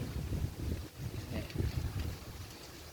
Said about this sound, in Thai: หน้าฝน นี่ลมเริ่มมาแล้วครับเอฟซี